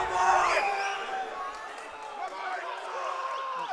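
Powerlifting meet crowd cheering and shouting at a junior men's national championship, a sustained roar of voices with whoops, mixed with an announcer talking over it.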